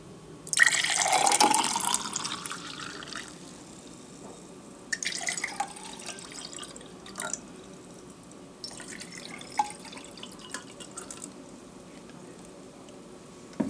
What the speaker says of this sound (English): you take your dilute blue cabbage juice, well it's blue now, and you pour it in